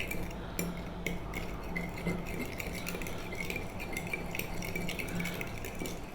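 A marinade for Safi fish is stirred in a bowl for an Arab Gulf fried fish dish, with steady light scraping and clinking of a utensil against the bowl throughout, close and fairly quiet.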